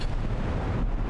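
Artillery fire from the Avowed fantasy RPG, a loud, close, continuous booming rumble of heavy guns with no speech over it.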